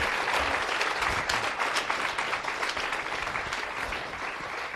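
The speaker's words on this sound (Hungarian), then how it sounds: "A big round of applause, our happy couples today" An audience claps for newlywed couples at a wedding celebration on a stage, a dense burst of steady applause that slowly tapers off.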